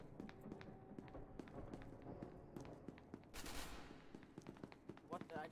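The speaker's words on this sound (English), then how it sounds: "I just got shot at" Gunshots fired at a player in the game SCP: Secret Laboratory, several sharp cracks mixed with running footsteps, heard faintly under the players' talk.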